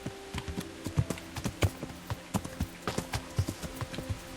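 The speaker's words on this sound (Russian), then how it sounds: "И скачи лошадка." Horse hooves gallop in Kingdom Come: Deliverance, a steady clip-clop rhythm of close, distinct thuds running throughout with no talking.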